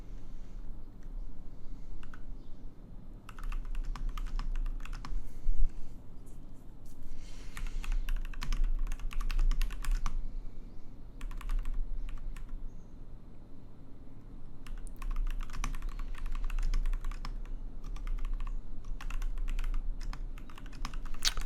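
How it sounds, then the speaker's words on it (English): Steady typing on a computer keyboard, close and fairly quiet, with rapid clustered key clicks in bursts separated by short pauses, over a low room hum. "your keyboard's so quiet. If I start typing, mine is gonna start going."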